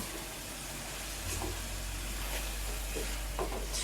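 Peppers tipped into onions frying in a pan, a steady close sizzle with stirring scrapes and a few soft knocks from the utensil, no voices.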